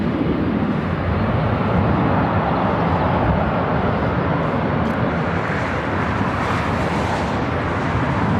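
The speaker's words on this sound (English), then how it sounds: "that 767 heading up here for a north side takeoff on 24 right" A Boeing 767 takes off from runway 24 right at LAX, a loud, sustained jet engine roar with broad rumbling thrust that holds steady throughout without pause.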